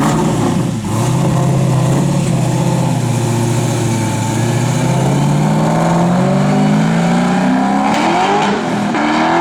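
A 1969 Chevrolet Camaro SS V8 rumbles loud and close, its engine revving up and down in sustained swells with a deep throaty exhaust note and no voices.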